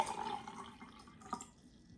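Water poured from one cup into a taller cup, a soft continuous trickle and splash at close range lasting about two seconds, with no talking over it.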